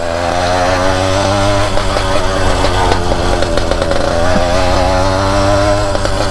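A two-stroke motorized bicycle engine buzzes loudly and steadily up close, a raspy, high-revving whine that holds its pitch with slight wavering throughout.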